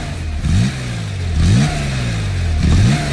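Porsche Carrera RS 2.7 engine revs three times in a sound chamber, each blip rising sharply in pitch then dropping back to a rough idle, close and loud.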